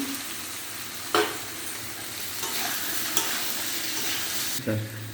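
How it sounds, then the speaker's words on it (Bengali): Fried potatoes and soybeans with turmeric are stirred in a hot pan for a Bengali curry, giving a continuous close sizzle broken by a few sharp spatula scrapes, with no talk. "এবার এটাকে ভালো করে কষাতে হবে, ভালো করে কষাবো।"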